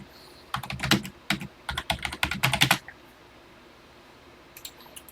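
Computer keyboard keys clatter in quick bursts of typing as a TI BASIC program is entered, a dense run of clicks followed by a pause and a few more isolated taps, fairly close and alone.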